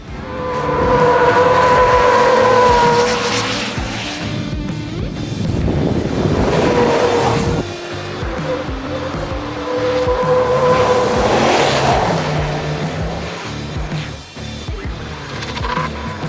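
RAM 1500 Rebel pickup with a 5.7-litre V8 Hemi accelerating hard on a race track, a loud engine roar rising and falling through gear changes, close and dominant throughout.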